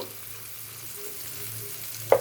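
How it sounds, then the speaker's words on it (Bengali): A fish fries in a pan on low heat, giving a soft, steady sizzle and crackle up close, with a sudden short clatter right at the end. "এক পিঠ ভাজা হয়ে গেছে, আমি এবারে এটাকে উল্টে দেব"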